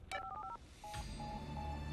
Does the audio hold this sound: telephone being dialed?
yes